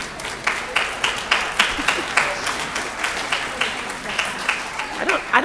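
A graduation ceremony audience for a 2025 high school class keeps up loud, sustained applause, dense rhythmic clapping from a large crowd with occasional cheers, pulsing steadily throughout.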